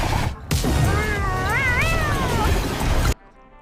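Jetpack Cat Fika in Overwatch lets out a single drawn-out, wavering meow, loud and close, over game noise that cuts off abruptly.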